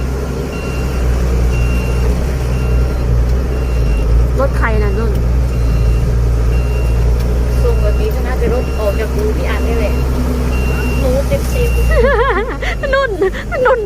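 A truck backs into place on a rural roadside, its engine idling low with intermittent reversing beeps and mechanical noise while people chat nearby.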